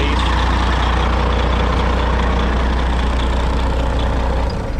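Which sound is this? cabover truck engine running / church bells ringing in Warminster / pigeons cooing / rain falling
cabover truck engine running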